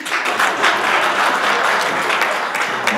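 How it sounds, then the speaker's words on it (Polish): Sustained applause from an audience at a municipal gathering of local officials, many hands clapping in an even, dense wash that holds steady for a few seconds. "kiedy można zaklaskać i bić brawo"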